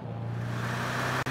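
A Dodge Viper driving in the racing game Forza Horizon 3, heard as a steady, low engine drone with road rumble that holds at an even level before a sudden brief cut.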